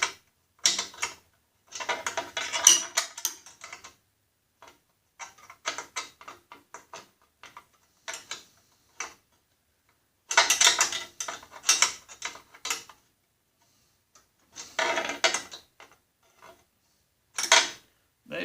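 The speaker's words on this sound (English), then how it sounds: "once you tighten this nut up, it should be fine. I might be able to get a wrench in here and do it" A wrench works a nut while a headlight is fitted to a 2012 Snapper mower, giving bursts of metallic ratcheting and clicking with short pauses between them, close and clear.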